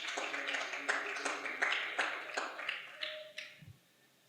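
Scattered hand claps from a small audience after thanks to the Ford Foundation at a talk on inclusion and development, a dozen or so distinct, fairly close claps tapering off within a few seconds.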